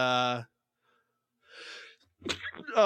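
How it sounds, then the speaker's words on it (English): A single sharp sneeze, close and brief, between moments of people talking. "Sneezing. Bless you."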